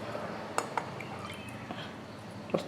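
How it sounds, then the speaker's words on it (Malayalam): Water dribbles into strained fresh strawberry puree, a few soft, irregular drips and splashes close by in an otherwise quiet kitchen. "കുറച്ച് വെള്ളം ഒഴിച്ച് കൊടുത്തിട്ട്"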